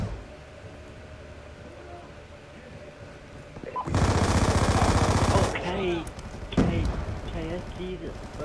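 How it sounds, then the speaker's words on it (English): A KSG shotgun blasts in a Black Ops 2 team deathmatch, one loud, dense burst of gunfire lasting about a second and a half, followed by another sharp report amid speech. "KSG. Overpowered shotgun."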